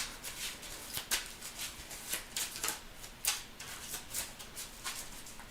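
A deck of Marvel Champions cards being shuffled at a table, a quick run of soft riffling flutters and snaps repeating in bursts, close and quiet with no talk.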